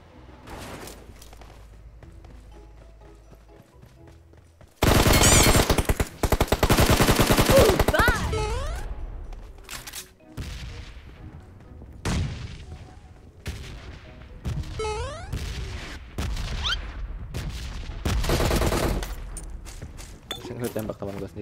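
PUBG gunfire: bursts of automatic fire and single sharp shots, some loud and close, others farther off, spread irregularly across the clip with a player talking in between.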